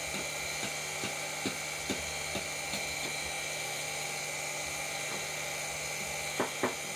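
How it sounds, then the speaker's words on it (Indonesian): Continuous high whirring of a power grinder sanding a fiber shoe heel, close by, with scattered sharp ticks and scrapes as the abrasive catches the surface; no voices. "Kita buka saja dan langsung di amplas gerinda."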